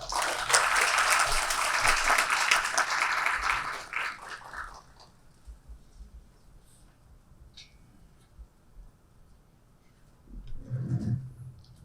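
An audience at a forum session on sustainable cities in Jeju welcomes a vice governor with loud applause that swells for about four seconds, then dies away into quiet room noise with a brief murmur later.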